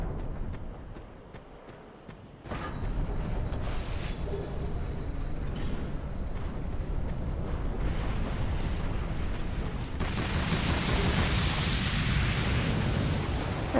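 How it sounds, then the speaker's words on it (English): Explosions in the video game Dark Souls 2: a run of heavy booms and crackling blasts, several sharp bursts breaking over a continuous rumbling roar. "Not really sure what all those explosions were"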